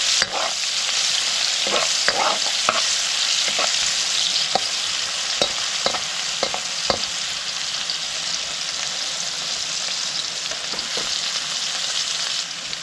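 Garlic, chili and onion sizzling in oil in a pan, a loud continuous hiss with scattered stirring clicks and scrapes, no talking.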